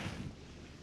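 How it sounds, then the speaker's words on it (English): Gusty wind buffets the microphone in a brief, muffled rumble with low-frequency roar. "It's just a bit too windy for you."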